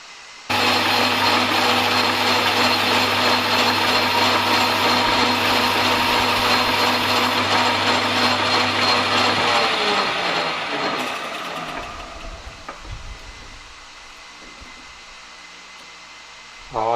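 An old masonry drill used as a boring bar cuts into a workpiece, a loud steady grinding whine with a strong hum for about ten seconds before the tone breaks up and trails off into scraping and quieter machine noise.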